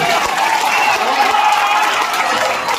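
Dense, steady audience applause at a mushaira in Ghazipur, a continuous wash of many hands clapping that stays loud and even throughout, with no pauses.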